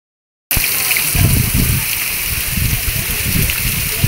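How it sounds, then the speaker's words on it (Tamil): Staubbach Falls in Lauterbrunnen, Switzerland, roaring close by as a dense, continuous rush of falling and splashing water that starts abruptly and persists with faint voices beneath. "water falls"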